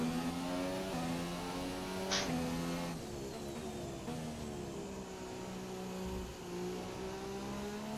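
McLaren Honda Formula 1 engine from the F1 2017 racing game on a lean fuel mix, a loud, steady, high-pitched drone whose pitch climbs and shifts through gear changes, with a brief sharp burst early on.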